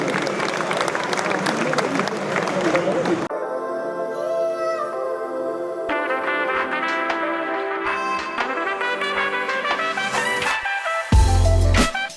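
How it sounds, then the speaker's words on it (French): Audience applause at a poker tournament, first a dense burst of clapping, then music with a tonal melody taking over and a loud thump near the end. "Donc on applaudit encore une fois"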